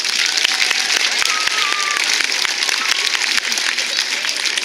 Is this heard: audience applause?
yes